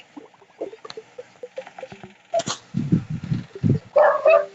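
A dog barks in short, uneven bursts of yips and whimpering bow-wows, fairly close and moderately loud, with no one talking over it.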